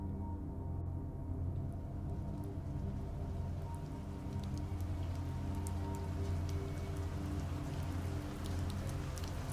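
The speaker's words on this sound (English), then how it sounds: "Rain tapping against the bedroom window and snaking downward." Rain tapping against a bedroom window, a steady soft patter that runs without a break over a low, constant rumble, moderately close, with no voices.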